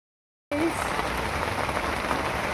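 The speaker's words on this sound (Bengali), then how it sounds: "খুব বৃষ্টি পড়ছে" Heavy rain pouring down in a village where cattle are being brought in, starting suddenly and then holding as a dense, loud, even hiss of drops with no voices.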